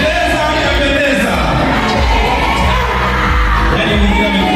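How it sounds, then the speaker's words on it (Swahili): A crowd at an engagement ceremony claps and ululates, making a loud, continuous wash of applause with high trilling cries and shouts over it throughout. "Makofi na vigelegele."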